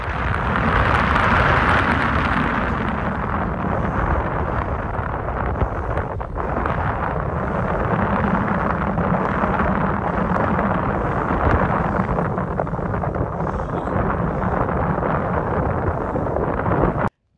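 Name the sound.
strong wind on a mountain hilltop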